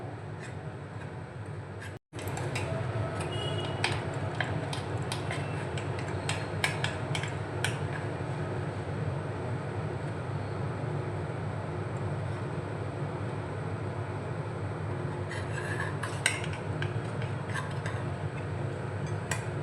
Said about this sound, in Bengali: ছুরির সাহায্যে একটু গোল করে আমি একটু খুঁড়িয়ে নেবো